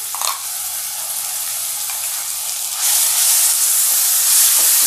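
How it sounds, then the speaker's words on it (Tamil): Onion and ginger paste fries in a pan with a loud, continuous sizzle and hiss, growing brighter and stronger partway through, with a brief stir near the start. "இது நல்லா செவக்கிற அளவுக்கு வறுத்துடலாம்."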